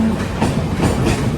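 A passenger train on the overnight Kolkata (Sealdah) to New Changrabandha run, heard from inside: a steady, loud rumble with faint rhythmic clatter of the wheels over the rails, no voices.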